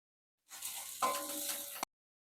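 Spices sautéing in a pan for pointed gourd prawn curry, a short close sizzle lasting under two seconds with a clink midway, then abrupt silence.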